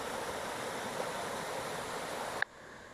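Creek water by a water-powered pump rushes in a steady, broad flow, then cuts off sharply after a brief click near the end.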